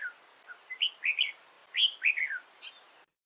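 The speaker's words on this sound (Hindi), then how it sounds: "मैं आपको अभी बुलबुल की आवाज सुना रहा हूं।" A bulbul sings a series of short, clear, bright chirping phrases, about a dozen notes in quick bursts, close and alone against a faint steady hum, ending abruptly.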